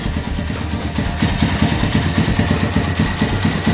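A Honda Tiger 2000 motorcycle idles close by with a slow, steady, low thumping pulse that stays even throughout, with no voices.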